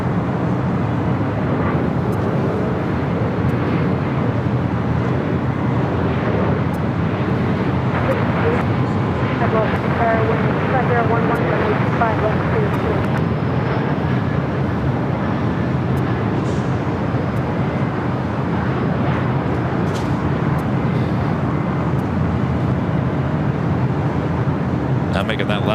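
A Lufthansa airliner taxis across the two south runways at LAX, its engines a steady, broad rumble that holds for the whole stretch, with voices faintly underneath.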